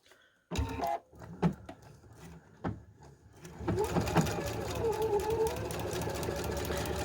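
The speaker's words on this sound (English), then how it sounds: "you're going to sew on the side with the drawn line" A sewing machine stitches along a drawn line on paper while piecing a quilt block, using an open toe foot. A few handling clicks come first, then a steady, close motor whir with rhythmic needle chatter runs to the end.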